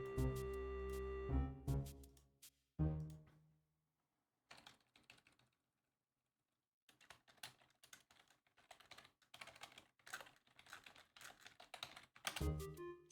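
Keys clatter on a computer keyboard in quick, uneven bursts of typing separated by short silences, close and fairly loud, with a tonal game sound from Quest for Glory IV at the start.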